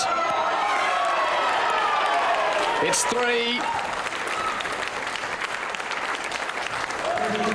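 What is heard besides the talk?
crowd cheering and applauding at a lawn bowls final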